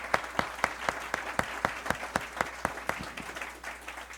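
Applause after a training session, heard as a sparse, rhythmic run of sharp claps at an even pace, sounding like only a few hands, close and clear over a quiet background.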